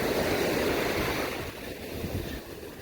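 Ocean waves breaking on a resort beach, a loud, close rush of surf that swells at the start and then eases a little, with some wind noise and no voices.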